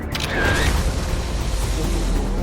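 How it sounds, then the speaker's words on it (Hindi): Loud, continuous rumbling blast noise from an airstrike on a Pakistani air base, dense low-end roar and boom filling the whole stretch without a break, heavy and close-sounding. "इन धमाकों ने पाकिस्तान में कोहराम मचा दिया"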